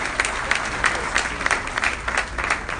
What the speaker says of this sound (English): the parents of the children, I think they deserve a round of applause